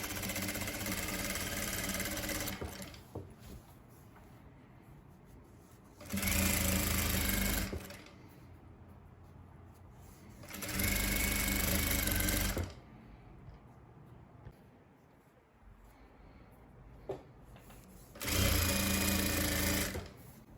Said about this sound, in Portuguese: E você vem virando aqui a bainha e costurando.